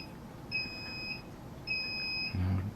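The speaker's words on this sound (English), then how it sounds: "that beeping was just my pressure cooker telling me that my bean soup is ready" Electronic pressure cooker signalling that bean soup is done: two long steady high-pitched beeps, each lasting about a second, faint and in the background of a quiet room.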